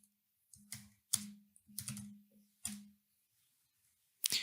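A command is typed on a computer keyboard in short bursts of clicking keystrokes separated by quiet pauses, close and crisp in a quiet room.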